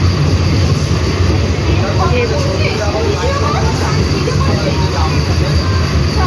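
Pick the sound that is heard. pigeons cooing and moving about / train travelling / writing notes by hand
train travelling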